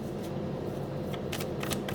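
A deck of tarot cards is shuffled close by, a quick run of soft papery flicks and riffles lasting about two seconds.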